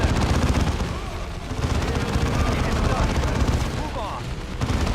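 Rapid, overlapping gunfire from squads of units in Dawn of War 2 battle, a dense continuous crackle of shots and impacts running the whole time at steady loudness, mixed with game noise and someone talking over it.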